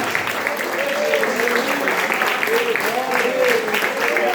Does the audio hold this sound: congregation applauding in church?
yes